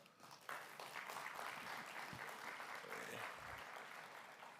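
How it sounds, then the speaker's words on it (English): Applause from a summit audience, steady and fairly loud throughout, dense clapping filling the hall after the host's introduction of guests. "let's give our guests a big round of applause"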